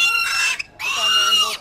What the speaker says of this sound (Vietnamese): Con này con lợn nhỏ nhưng mà nhỏ.